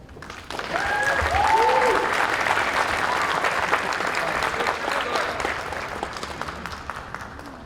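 Sustained applause fills a sheriff's office promotions and awards ceremony, a dense steady wash of many hands that swells quickly and holds. A voice sounds faintly through it early on.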